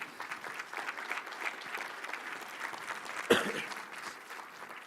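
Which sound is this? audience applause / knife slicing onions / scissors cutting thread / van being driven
audience applause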